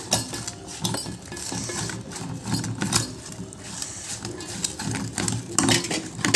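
Grated amla pickle being mixed with a spoon in a bowl, continuous close clinking and scraping of metal against the dish in an uneven stirring rhythm.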